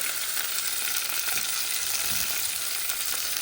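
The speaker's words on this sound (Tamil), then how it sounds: "வதங்கட்டும் வட்டு கத்திரிக்காய் வதங்கிட்டுது" Vaddu kathirikai brinjal sautéing in a pan, a loud continuous dense frying sizzle with faint stirring movement throughout, no voices.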